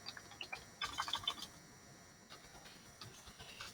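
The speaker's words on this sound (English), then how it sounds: "they're going to type periodic table here" Quick bursts of computer keyboard typing on a classroom computer as a chemistry lesson reference search is entered, light clicking keystrokes in short clusters, fairly faint and close.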